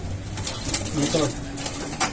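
Soft pigeon cooing under a steady background hiss, with brief rustling and faint voice-like murmurs mixed in.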